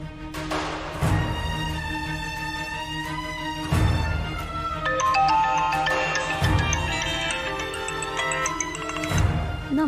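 A mobile phone ringtone plays loudly and close, a melodic electronic tune that repeats in phrases with a steady pulse throughout.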